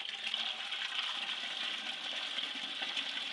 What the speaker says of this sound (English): So here's about 5 more gallons of water here going in